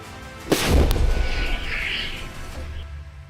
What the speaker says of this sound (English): The self-propelled Gvozdika artillery system also launched 122mm shells at the Ukrainian Armed Forces stronghold